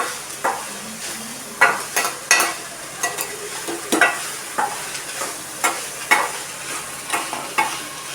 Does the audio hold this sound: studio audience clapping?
no